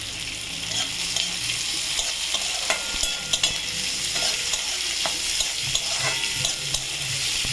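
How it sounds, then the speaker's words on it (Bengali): Onions frying over a high gas flame with a dried red chilli are stirred in a pan, giving a constant close sizzle broken by regular scraping taps from the spoon and no talk. "পেঁয়াজটা বাদামি কালার ভেজে ফিরছি।"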